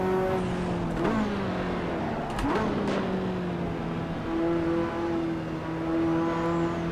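A Ferrari F40 engine in the racing game Assetto Corsa revs and accelerates with a loud, sustained growl, pitch rising and shifting as gears change, steady and close.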